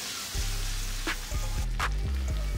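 Chicken bhuna frying in a pan sizzles steadily while almond paste and coriander leaves are added and stirred in, with a few soft scraping and tapping strokes over the constant hiss.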